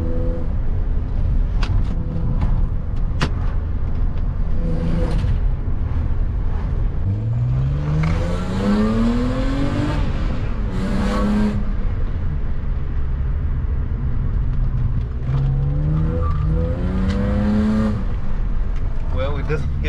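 Manual BMW 320i E36 coupe with a 150 HP engine driven hard through city streets, heard from inside as the engine revs rise and fall through gears, with steady road noise throughout.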